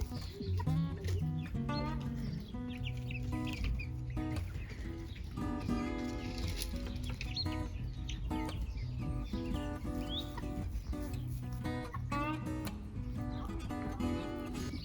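Two roosters and chickens cluck and call outdoors, steady and close throughout, with bird sounds layered densely over the full stretch.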